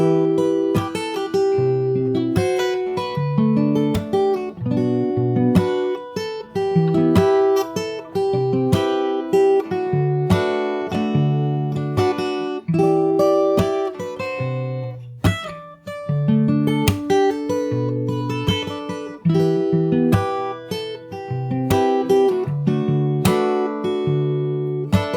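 A close acoustic guitar picks through the full second verse of a song fingerstyle, a steady flow of plucked bass notes and bright melody lines ringing out clearly without any talking.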